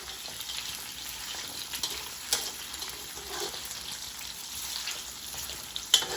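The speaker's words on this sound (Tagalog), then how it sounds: "Haluin natin guys ang ating karne." Meat for chopsuey fries in a hot pan and is stirred, so a constant crackling sizzle runs throughout, broken by occasional scrapes and clatters of the utensil.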